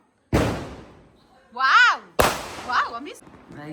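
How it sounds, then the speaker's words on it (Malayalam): Two sharp firecracker bangs go off a couple of seconds apart at a Vishu celebration at home, each fading quickly, with people's voices heard between and after them. "പടക്കം"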